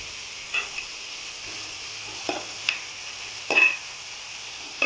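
Chopped onion with a little salt frying in a pan over a medium flame, a faint steady sizzle broken by a few short scraping stirs, with no talking.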